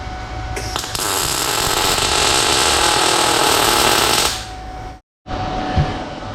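Welding tacks onto a boxed Dodge Dakota frame for drag racing, a loud steady crackling hiss sustained for about four seconds before it cuts out, followed by brief quiet handling noise.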